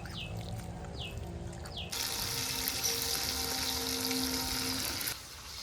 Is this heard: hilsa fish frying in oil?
yes